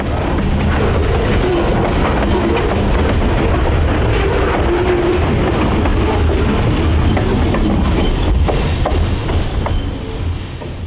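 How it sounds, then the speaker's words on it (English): A GE B23-7 high-hood locomotive hauls a limestone train downgrade toward an interchange, with steady rumble, wheel noise and rhythmic clacking of cars rolling past, loud and continuous with no talk. "As the train eased downgrade to the Norfolk Southern Interchange, the crew prepared to drop off the loads of limestone."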